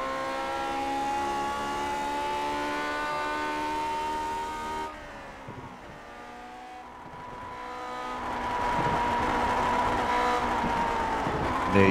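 A Lotus 49 Grand Prix car howls around Suzuka in iRacing, the loud engine note holding steady, dropping away briefly as if lifting off, then climbing back up in pitch under acceleration.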